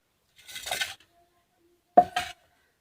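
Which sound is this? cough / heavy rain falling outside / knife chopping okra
knife chopping okra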